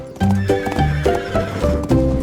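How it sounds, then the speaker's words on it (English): A horse whinnies loudly and repeatedly, close by, over a steady rhythmic clip-clop of hooves. "horses trotted slowly past"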